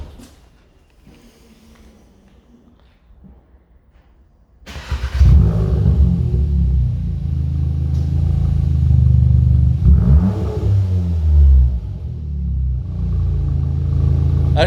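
A Seat Leon Cupra with an exhaust running with no valve cranks and fires up after a quiet moment, then settles into a deep loud idle with throaty revs, close to the car.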